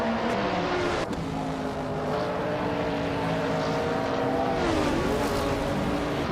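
Race cars, including a 1970 Pontiac Firebird, in a racing video game: a loud, continuous engine drone with rising and falling pitch and a passing whoosh, constant with no talk.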